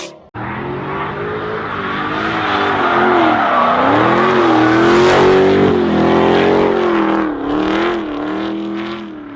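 2020 Dodge Charger Hellcat revving hard and accelerating, a loud sustained engine roar that rises and falls in pitch through the gears, heard alone without talk.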